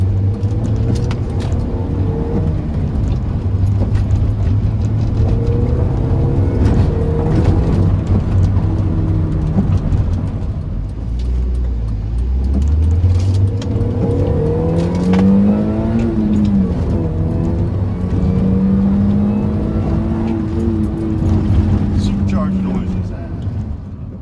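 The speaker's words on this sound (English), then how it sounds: "let's go for a little test drive" A Mini Cooper S R53 drives on a test drive, its engine droning steadily and loudly with rising and falling revs as it shifts through gears, along with road and cabin noise.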